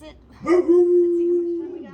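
A pet dog close by lets out a single drawn-out vocal cry, a steady howl-like whine lasting over a second, while a person talks across the moment.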